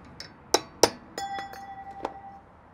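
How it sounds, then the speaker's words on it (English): A cold chisel taps and pries at a metal dust cap on a Land Cruiser 200 hub, giving several sharp metallic clinks, one leaving a brief ringing tone, scattered over a few seconds at close range. "you'll need a cold chisel or a screwdriver or something, and just work your way around till it's all laid off"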